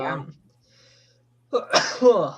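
A man sneezes close to the mic, a short burst at the start, then after a quiet gap another loud explosive sneeze with voiced gasping breath trailing off.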